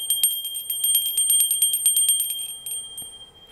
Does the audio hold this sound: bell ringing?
yes